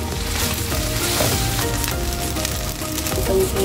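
Rice hits a hot pan with minced pork for fried rice, giving a loud, continuous close sizzle and crackle with scraping stirs throughout.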